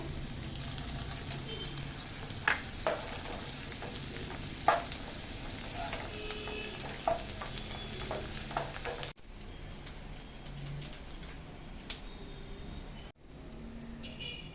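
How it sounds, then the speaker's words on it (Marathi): Edible gum frying in hot oil makes a loud, steady, close sizzle with occasional pops and light stirring. The sound cuts abruptly twice near the end. "अशा पद्धतीने आपण असं सर्व डिंकणा तळून घेऊया"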